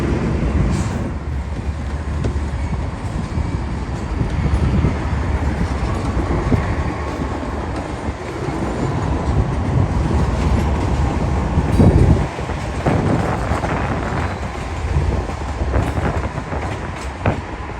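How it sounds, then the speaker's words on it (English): A matched set of KCS locomotives pulls out light engine at an intermodal terminal, with a loud, rumbling diesel drone, clanking and squeals rising and falling close by, with no talk. "the matched set of KCS GVOs pulled out light engine"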